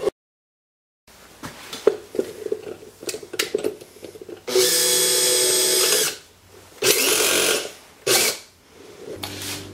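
A homemade powered pencil sharpener with a box to catch shavings runs in short bursts: scattered scraping and grinding, then several loud whirring runs of a few seconds each, separated by quieter pauses.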